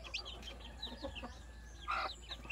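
A native mother hen clucks near her newly hatched chicks, giving soft, intermittent clucks at moderate distance over a busy outdoor background of faint chirps and rustling.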